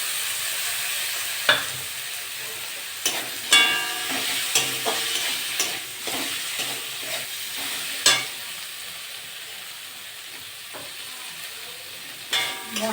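Tomato and spices sizzling in oil in a pan for a rohu fish and potato curry, with a steady frying hiss broken by repeated sharp clacks and scrapes of a spoon stirring.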